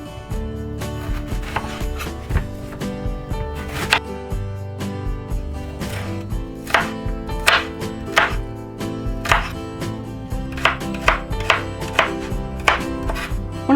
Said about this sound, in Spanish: Ahora voy a picar la cebolla